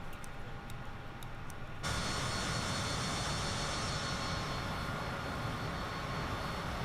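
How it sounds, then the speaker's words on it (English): An Airbus A320neo auxiliary power unit spins up in Microsoft Flight Simulator, a steady background hum jumping abruptly into a loud, continuous broadband turbine roar that holds evenly, with no voices. "I always like to watch and listen to the APU starting."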